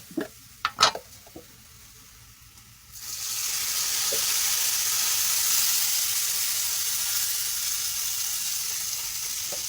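Salted water sizzling and boiling off in hot oil while chillies fry in a pan, a few faint knocks first, then a loud, steady hiss that holds to the end.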